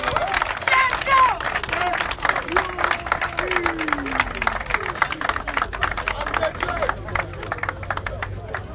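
A church congregation claps steadily in dense, continuous rapid applause, mixed with shouting voices and crowd babble that rise and fall over nearly nine seconds.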